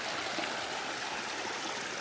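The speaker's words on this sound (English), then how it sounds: "trickling all the way down to the big lake" Stream water trickling out from tree roots, flowing down from underground: a steady, close, soft rushing and gurgling with no breaks.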